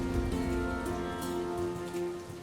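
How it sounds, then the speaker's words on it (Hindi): Steady rain falls in a monsoon scene, a dense, even patter that runs alone for the whole stretch with a faint tonal hum beneath it. "इस वर्षा में आगे बढ़ना,"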